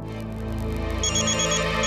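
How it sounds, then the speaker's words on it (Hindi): A mobile phone rings indoors in a home, a steady electronic ringtone with repeating high tones entering partway through over a low background hum, fairly loud and with no talking. "अरे ये तो आई का फोन बज रहा है।"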